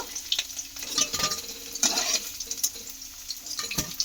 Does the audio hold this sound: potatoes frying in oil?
yes